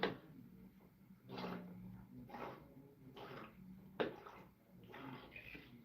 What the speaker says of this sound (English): go fill my water up